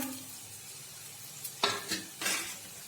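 Turmeric, coriander powder and salt are stirred in a pan of tempering: a faint low sizzle, then three quick scraping strokes against the pan near the end.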